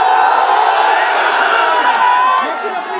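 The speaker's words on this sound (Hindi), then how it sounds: "देखिए ये भीड़" A large crowd at a Bhim Army rally cheers and shouts loudly and continuously, a dense roar of many voices close by.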